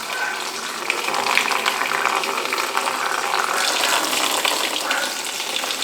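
Water gushing and splashing out of a rotary engine block during an FD rotary teardown, a steady continuous pour of several seconds close to the microphone.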